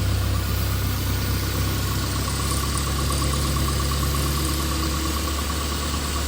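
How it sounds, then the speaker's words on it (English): A Nissan 240SX with a KA engine idles after sitting unused for 20 years, giving a steady, close, continuous low rumble with even mechanical vibration throughout and no talking. "Got it running a lot better."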